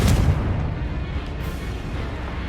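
A Confringo blasting spell bursts in Hogwarts Legacy, a loud, dense explosive rumble that hits at once and keeps roaring steadily for a couple of seconds without fading.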